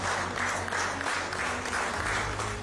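Prime Minister Modi's office staff, lined up on both sides, give him a brisk round of continuous clapping as he arrives. The clapping is moderately loud and has no voices over it.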